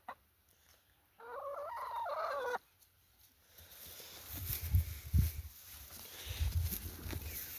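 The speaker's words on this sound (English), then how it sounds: "Like Rocky, have to fucking chase these chickens" Farm chickens, a brief cluck followed by a strained crowing call, then fainter scratchy bird and yard noise with soft low thumps, heard at moderate distance.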